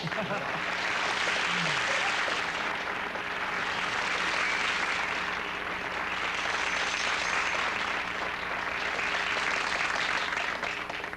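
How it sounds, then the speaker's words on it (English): A studio audience at a 1978 late-night comedy talk show keeps up long, dense applause, a continuous wash of clapping that swells and holds steady throughout, with faint talk underneath. "They clapped for so long."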